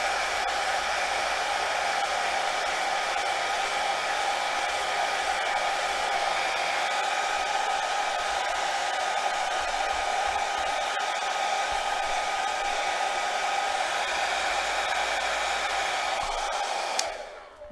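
A hair dryer blows steadily on colored bead embroidery foundation, a loud continuous close-up whoosh that holds even for about seventeen seconds before cutting off abruptly.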